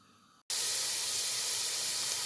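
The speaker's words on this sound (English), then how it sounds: "I love the sound of sizzling onions." Onions hit hot oil in a pan and burst into a loud, steady sizzle right after a brief quiet moment, then hiss on evenly, close up.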